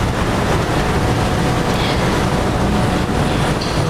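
A Kia Sonet 1.5 idles steadily, a loud, even, broadband rumble with deep low-end hum, unchanging throughout and with no talking.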